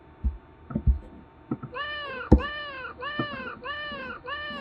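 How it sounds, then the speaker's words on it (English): A cartoonish cat sound plays in a Scratch program, a series of about five repeated warbling electronic tones in a steady rhythm, mixed with soft thumps and clicks from a computer, close and moderately loud. "now hear the cat go"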